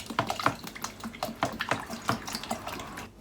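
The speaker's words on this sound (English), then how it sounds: "So all the trash I'm gonna be using, and I'm gonna be pouring water on it." Water pours and splashes over leftover fruit pulp in a container, an uneven run of wet sloshing bursts close by with no talk.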